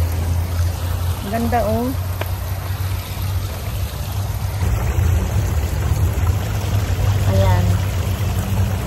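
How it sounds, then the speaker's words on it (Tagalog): A waterfall in Calgary gives a steady broadband rush that runs the whole time, with voices talking briefly over it. "ito yung kanilang falls"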